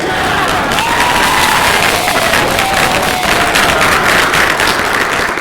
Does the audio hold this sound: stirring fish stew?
no